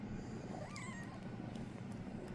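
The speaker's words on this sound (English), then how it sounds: "Battle Cat Jr. has decided to attack me here in the broadcast booth" A cat meows in a wrestling broadcast booth, with a couple of short rising cries heard over a steady low background hum.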